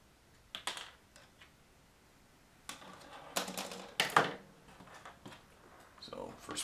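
Plastic Ork Warboss miniature pieces being snipped from the sprue with hobby clippers, giving sparse, sharp clicks and snaps at close range with quiet gaps between cuts.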